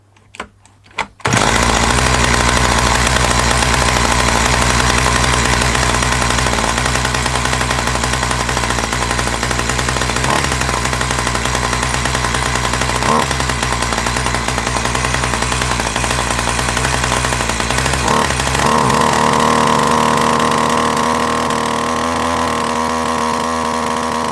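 A 1982 Dolmar 100 chainsaw engine starts and revs hard, a loud, sustained, rough two-stroke roar close by that barely dips and holds steady to the end.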